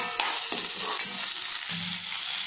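Pieces of taro frying in a pan for a home-cooked taro and tomato curry with leftover meat, soft sizzling under a few scraping stirs of a spoon, close and fairly quiet with no talk.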